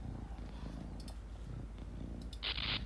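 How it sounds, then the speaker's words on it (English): A house cat purrs steadily and close by, a continuous low rumble through the whole stretch, with a few faint clicks and a brief brighter hiss near the end. "You see this fucking stupid cat?"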